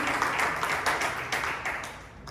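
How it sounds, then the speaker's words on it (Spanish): A church congregation claps together in steady, dense applause with sharp individual claps, loud and close, lasting a couple of seconds without talk. "Un aplauso al Señor."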